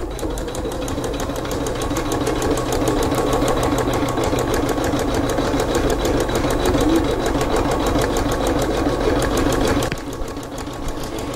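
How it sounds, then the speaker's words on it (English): A sewing machine runs a dense satin stitch over appliqué fabric, its needle hammering in a fast, even, loud mechanical rhythm that keeps going without pause and eases slightly near the end. "it's going to do the satin stitch"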